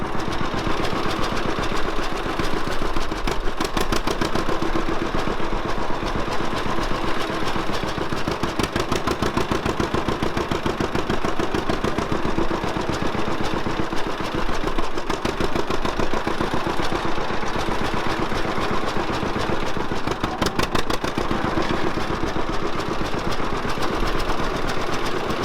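An old tractor with a carburetor needing rebuild, its engine running steadily in third gear with a rapid, even chugging and clattering beat, loud and continuous throughout.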